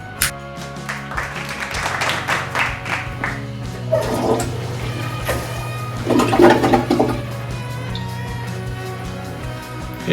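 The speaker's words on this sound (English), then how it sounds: "Okay, so I've flushed it and let it fill half a dozen times." A toilet flushes and refills in a facilities maintenance check, a loud rushing swirl of water over a steady low hum, then trickling refill noise, close by with no talk.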